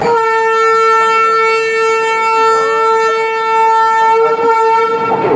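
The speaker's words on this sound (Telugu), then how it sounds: "సో ఈ ట్రైన్ వెళ్ళిన తర్వాత మన ట్రైన్ వస్తుంది." Ambience at Visakhapatnam railway station as a train passes through, dominated by a long, steady, horn-like tone that holds for several seconds over a low mechanical rumble, loud and close, with no talking.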